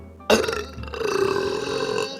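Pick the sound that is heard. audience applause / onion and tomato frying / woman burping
woman burping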